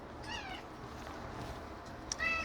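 A pet cat meows twice indoors, a short cry early on and another near the end, fairly close but soft against a quiet room hum.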